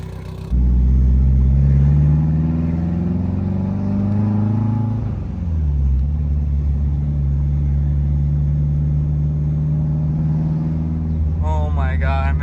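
Mitsubishi Evo X with a full titanium exhaust driving, a loud, steady low engine drone and rumble with a brief dip in revs mid-way, close and continuous throughout.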